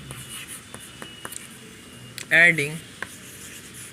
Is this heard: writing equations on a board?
yes